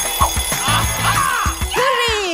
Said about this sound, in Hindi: अरे, घंटी बज गई।